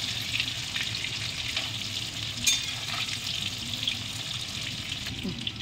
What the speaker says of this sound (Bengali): আমি এগুলো ভালো করে ভেজে নেব